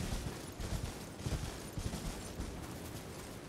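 A rapid crackle of firecracker-like explosions in Elden Ring, a dense string of small pops and bangs with a few louder hits, continuous for several seconds under low background noise.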